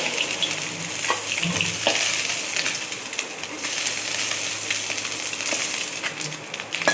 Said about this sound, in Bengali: রাঁধুনি ফোড়ন দিয়ে আর আদা ফোড়ন দিয়ে বসিয়ে দেবো